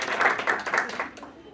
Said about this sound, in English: So give me a round of applause, guys.